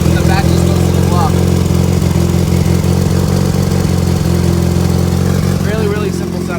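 A turbocharged AWD Honda CRX engine idles steadily just after its first start, with a close, loud, even rumble and rapid rhythmic clatter that continues without pause; faint voices may sit underneath.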